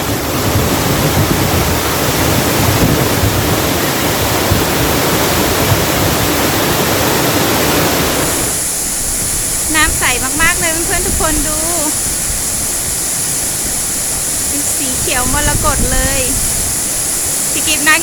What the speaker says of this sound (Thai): ตรงนี้มีน้ำกระเซ็นเข้ามาด้วยค่ะ